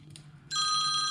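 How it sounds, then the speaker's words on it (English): A telephone rings in a workshop where Mikuni TDMR40 carburetors for a Ducati 900SS are being assembled, a sudden bright electronic trill starting midway and holding steady after a faint, quiet stretch. "And the phone rings."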